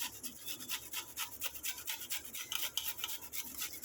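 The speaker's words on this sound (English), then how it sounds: "So I'm grating the ginger to get the maximum flavor out of it." Fresh ginger root is grated on a metal cheese grater, a quiet, close rhythmic rasping of quick repeated strokes with no talk.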